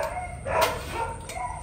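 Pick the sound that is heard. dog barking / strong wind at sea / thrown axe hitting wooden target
dog barking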